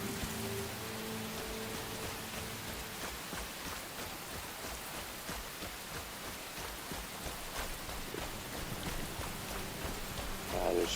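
Steady rain pours down at night in Enshrouded, a broad continuous hiss with a faint low rumble that might be distant thunder, heard alone without voices throughout.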